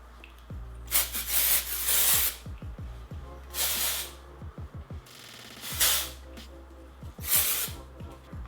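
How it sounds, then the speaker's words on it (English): Repeated hissing spritzes from an aerosol can of texturizing hair spray, some short and some longer, spaced irregularly with faint handling noises between them. "just give a light spritz on this"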